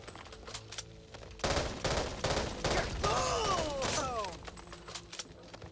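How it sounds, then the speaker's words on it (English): An M16 assault rifle fires in rapid bursts in the video game Back 4 Blood, sharp repeated cracks over several seconds with ringing shell and metallic tails in between, moderately loud. "we've got the staple rifle for the American military, the M16"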